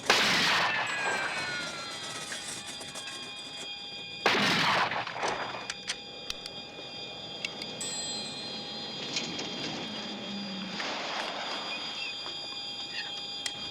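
Rifle shots in a firing practice with three rifles in triangulated fire at a moving target, a few sharp cracks spaced seconds apart, one loud and others more distant, with ringing tones and low rumble between.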